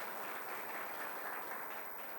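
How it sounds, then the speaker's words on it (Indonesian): A church congregation at a Sunday worship service breaks into steady, dense applause, a continuous wash of many hands clapping at moderate volume throughout with no break. "Kasih tepuk tangan buat Tuhan Yesus."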